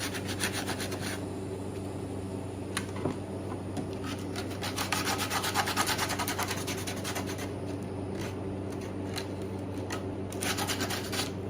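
Steady rasping of an old random orbital sanding disc against wood on a cigar box guitar sound hole, continuous and close, with a constant motor-like hum underneath and occasional sharper scrapes.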